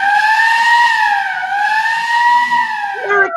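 A loud siren wails up and down in slow, smooth sweeps during a live radio play, close and continuous, with a brief jumble of other sounds at the very end.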